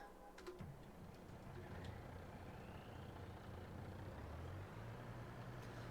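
Truck engine idling in the farming video game Farming Simulator 22, set in Edgewater, Saskatchewan, a faint steady low rumble with a slight shift in pitch partway through.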